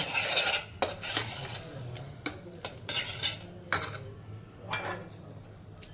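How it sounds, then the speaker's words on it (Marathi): Ground masala paste sizzles in oil in a pan for spicy sprouted moth bean usal while a spoon scrapes and stirs it in quick, irregular strokes, with short bursts of clatter between quieter frying. "हे वाटण व्यवस्थित परतून घ्यायचं अगदी तेल सुटेपर्यंत आपल्याला हे परतवायचं"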